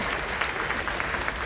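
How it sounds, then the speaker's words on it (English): An audience claps steadily at a group cruise question-and-answer session, a dense, even applause filling the whole moment. "Now we're going to keep that applause going"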